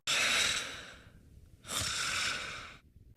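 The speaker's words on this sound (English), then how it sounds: "he snores for both the inhale and the exhale" Fox from Super Smash Bros. Ultimate snores in his sleeping voice clip, two long, breathy, hissing snores on both inhale and exhale, loud and close with a short silent gap between them.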